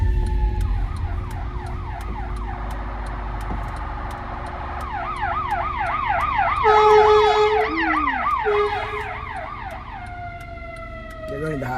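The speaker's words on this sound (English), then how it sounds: "we got an ambulance behind us, so I'm gonna move to the side." An ambulance siren wails nearby, cycling through rising and falling tones over road rumble, growing louder and then abruptly cutting to a different pattern.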